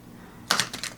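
A quick burst of crisp, rapid clicking as thick, weighty Lenormand cards are side-riffle shuffled, several sharp flutters over about half a second following a quiet pause.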